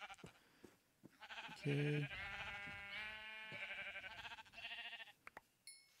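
A Minecraft sheep bleats several times in a row, its wavering, nasal calls fairly clear and close, with a brief spoken word from a person partway through.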